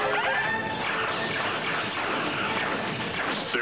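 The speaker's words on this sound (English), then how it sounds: "Return fire, Mr. Worf. Full phasers. Firing, sir." Star Trek phaser fire played back as a sound effect, a loud, dense, crashing blast of noise that stays strong without a break, with no speech over it.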